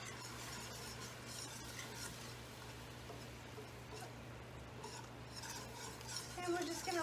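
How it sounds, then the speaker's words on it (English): A butter and flour white sauce cooks in a pan, a faint low sizzle with soft stirring and occasional utensil clinks over a steady hum, somewhat louder near the end. "we're just making a white sauce with flour and butter"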